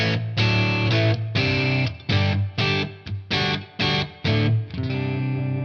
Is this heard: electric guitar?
yes